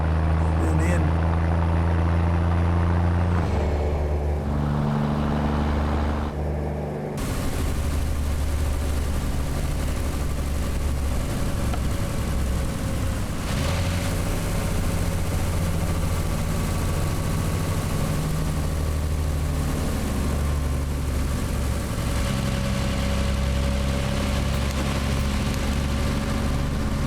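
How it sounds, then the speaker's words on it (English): A heavy truck engine in American Truck Simulator heard from outside the cab, a deep steady idle and rumble whose tone shifts a few times, with someone talking over it. "This engine sounds so much better outside the cab than in."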